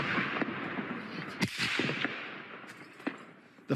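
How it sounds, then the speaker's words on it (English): Scattered sharp cracks of gunfire and thuds of distant explosions during the Russian invasion ring out over a rushing, noisy background, irregular and echoing. "by the sound of constant gunfire and explosions."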